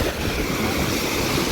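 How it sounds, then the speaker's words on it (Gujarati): Sea waves break and wash onto a Mumbai beach shore in a steady close roar, with wind buffeting throughout. "આ મોજું આવ્યું."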